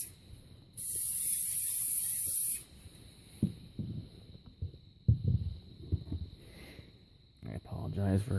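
A single sustained burst of aerosol waterproofing spray misting sneakers hisses up close, followed by quieter handling noises and a voice speaking briefly at the end.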